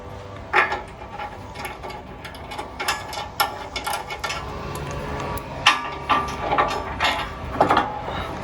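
A ratchet tightening bolts on step sliders on a two-door Jeep Wrangler JL Rubicon, a busy stream of metallic clicking and clanking with louder bursts of pawl ratcheting, close and with no talking.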